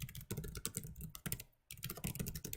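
Fingers type a command on a computer keyboard in a quick, close, soft run of clicking keystrokes, with one brief pause midway and no voices.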